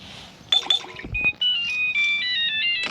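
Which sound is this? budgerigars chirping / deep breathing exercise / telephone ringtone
telephone ringtone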